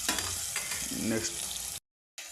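Onions fry in a pan for a couple of seconds with a dense, close hiss and crackle, then the sound cuts off abruptly before returning briefly.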